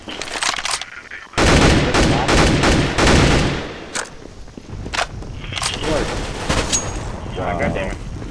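Sharp gunshots, a sniper rifle among them, crack through a Counter-Strike: Global Offensive match on PS3. A loud stretch of rapid automatic fire is followed by scattered single shots and footsteps, with players talking throughout.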